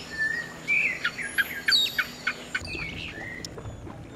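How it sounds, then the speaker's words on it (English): Birds sing and chirp at sunrise near Livingston, with a rapid series of clear whistled calls at moderate distance over a quiet, hazy background, no talk. "But the bird songs at sunrise,"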